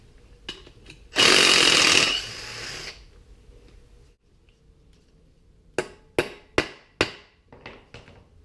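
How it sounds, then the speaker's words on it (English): A burst of harsh mechanical noise, then several sharp metallic hammer strikes in quick succession, loud and close, as a part is hammered in during a mini four-stroke engine teardown. "Hammer the bit in."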